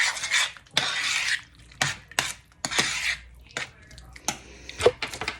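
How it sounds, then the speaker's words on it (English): Frozen peas and carrots mixed into thickened sauce in a pot, a series of wet scraping and clinking spoon strokes in uneven bursts, close and moderately loud. "I'm going to add 2 cups of vegetables. I'm just using frozen peas and carrots. You can use whatever you want. I'll mix that in."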